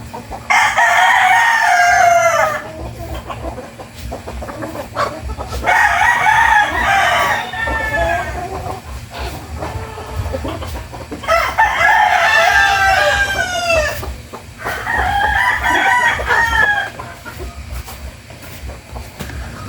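Roosters crow loudly in four long bursts, with hens clucking and farmyard noise continuing between them.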